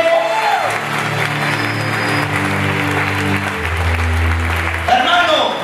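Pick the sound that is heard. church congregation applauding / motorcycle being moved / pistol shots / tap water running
church congregation applauding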